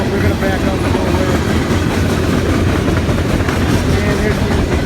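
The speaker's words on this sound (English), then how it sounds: "And here's the train." A Ferromex Baldwin Centipede locomotive rolls past with its train, giving a steady loud rumble and rail clatter that fills the whole stretch, close by and constant throughout.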